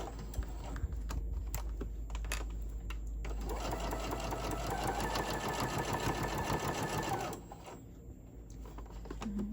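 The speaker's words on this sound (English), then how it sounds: "now I'm going to sew all the way down" A sewing machine stitching a zipper pouch, a steady close rhythmic whir with a rising motor tone through the middle, then easing off with a few clicks.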